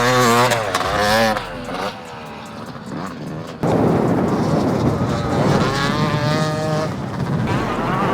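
An enduro motorcycle rides a sand track, its engine droning steadily and loud throughout, with revving pitch changes and a brief dip before surging again.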